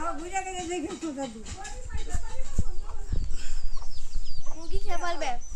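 Chickens cluck and squawk close by in bursts, mixed with people talking and children's voices around them.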